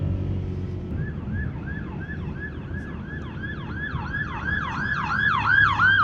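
An ambulance siren wails in a rising and falling cycle, growing louder as it approaches over the low rumble of road traffic.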